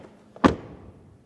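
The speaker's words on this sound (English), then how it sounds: "door closing sound" A single solid thud of a Mercedes E53 AMG sedan door swinging shut, close and loud, with a brief dull decay and no voices.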